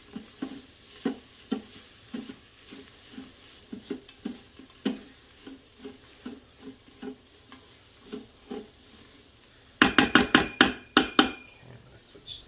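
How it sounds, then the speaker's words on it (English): A utensil taps and scrapes rhythmically through flour cooking in fat in a pan, soft regular strokes over a faint sizzle, then a burst of louder, quicker knocks near the end; a voice talks lightly underneath. "whenever you're cooking with flour and making like a roux, you want to make sure there's enough fat in the bottom"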